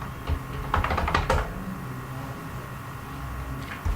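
Someone types a password on a computer keyboard: a quick cluster of clicky keystrokes near the start, then quiet room hum with one more faint tap at the end.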